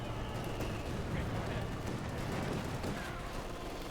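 Sustained machine gun fire in a Company of Heroes 2 battle, including an MG42 team, rattles beneath a dense wash of battle noise and distant explosions while a commentator talks over it.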